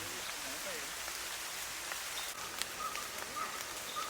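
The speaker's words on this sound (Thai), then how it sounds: "ท่ามกลาง สายฝนที่กำลังตกโปรยปลาย นี่คือบรรยากาศในช่วงเย็นของวันนี้ครับ" Rain falls steadily through a forest in the evening, a dense even hiss of drops on leaves and ground, with a few faint bird calls in the distance.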